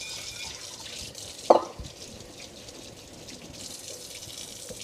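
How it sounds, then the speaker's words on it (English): Warm water runs from a kitchen tap, a steady faint hiss of flow with one brief clatter early on, no talking. "Oh, we got some warm water going in here."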